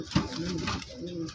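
A brief, close throaty cooing comes from a male and female pair of large Gopalganj pigeons, with a second coo following a short pause.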